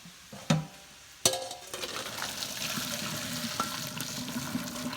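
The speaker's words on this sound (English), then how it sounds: "I'm going to take this to the sink and go ahead and strain it" A couple of sharp clunks, then a steady splashing hiss of boiled pasta water pouring and draining at a sink, continuing at an even level with faint metallic clinks.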